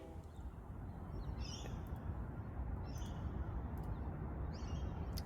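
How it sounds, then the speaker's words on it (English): Rainbow lorikeets call in the background, with a few short, shrill, high screeches at intervals over a steady rushing outdoor noise bed. "I think you can hear rainbow lorikeets in the background."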